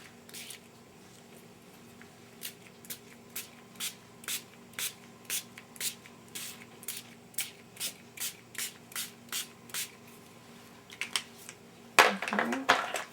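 Spray paint hisses from a can nozzle onto a stencil in a long run of short, evenly spaced bursts, ending with a louder rustling clatter.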